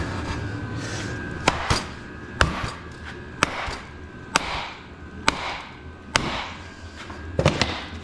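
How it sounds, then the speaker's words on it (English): Heavy sledgehammer blows ring out against a semi truck starter being driven loose, about eight sharp metallic strikes spaced roughly a second apart, some doubled, over a steady background hum in a shop. "This may take a sledgehammer to get this one out."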